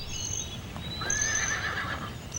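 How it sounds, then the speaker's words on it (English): A golden Palomino horse in the pasture at Graceland gives a clear, high neigh that rises and falls, heard at moderate distance. Faint hoof clip-clops sound beneath it against quiet outdoor ambience. "there should always be a golden Palomino in the Graceland pasture"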